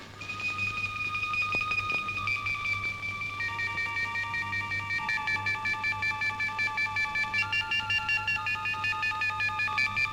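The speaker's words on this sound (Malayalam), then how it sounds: "ഞാൻ അവർക്ക് ഫോൺ ചെയ്യാം." A telephone being dialed in a Malayalam film scene, a run of electronic dial tones and beeps that ends in a fast, regular pulsing pattern, steady and fairly clear over a low hum with no talk.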